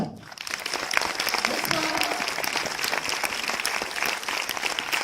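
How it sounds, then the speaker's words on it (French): An audience at a French film screening event claps continuously, moderate and steady after a brief quiet start, with a voice faintly under the applause. "applaudissez très très fort Suzanne Clément."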